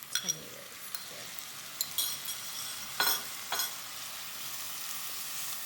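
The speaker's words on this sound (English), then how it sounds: "now we are going to add our 3 chopped tomatoes here" Three chopped tomatoes added to green chilies frying in a pan for a Kerala-style shrimp dish in creamy coconut sauce, giving a steady soft sizzle with several quick spoon-and-pan clinks and stirring.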